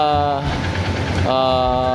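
A new Honda XR150 carbureted motorcycle engine idles steadily and loudly up close, with a smooth, even hum that holds throughout.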